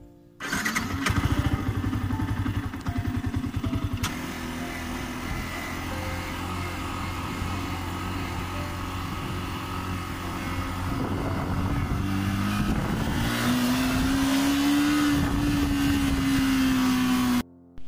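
A motorbike engine runs steadily while riding, its loud, close drone holding even throughout, with the pitch rising near the end as it speeds up.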